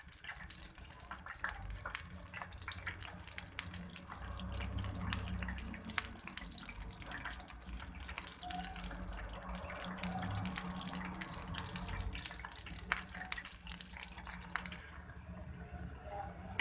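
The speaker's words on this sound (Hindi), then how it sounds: "दो दो करके मैं फ्राई करूंगी। मीडियम फ्लेम पे हम इन्हें फ्राई करेंगे।" Potato samosas deep fry two at a time over a medium flame, giving off a continuous close crackling, bubbling hiss of hot oil at a fairly soft level with no voices.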